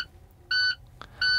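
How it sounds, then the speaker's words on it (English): Two short truck low air pressure warning beeps from the dashboard gauges sound a moment apart, high and steady, with a small click between them against quiet background. "I should hear an alarm or beeping noise coming from the gauges."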